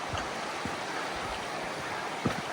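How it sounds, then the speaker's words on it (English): Junction Creek flowing through woods in Kananaskis, Alberta, a steady broadband rush of moving water with a few soft low thumps, close and continuous with no talk. "hiking along Junction Creek again"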